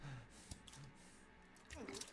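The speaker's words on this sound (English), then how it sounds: "Pour the goop on it." Goop is poured over a character's hands in the horror game Resident Evil Village, making soft, wet squishing and dripping sounds, quiet and close.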